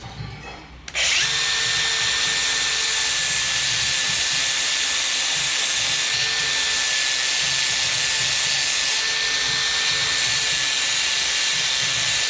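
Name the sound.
power tool trimming steel tube for a car exhaust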